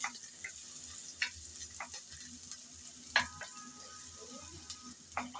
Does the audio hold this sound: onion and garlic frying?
yes